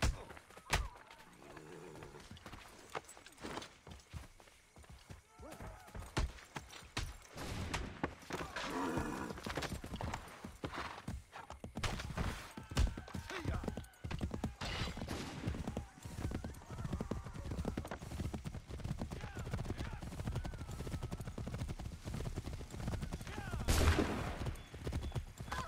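Galloping horse hooves drum steadily in Assassin's Creed 3 during a ride through wartime Lexington, with rhythmic clip-clop across the whole stretch, occasional whinnies and bursts of distant gunfire mixed in.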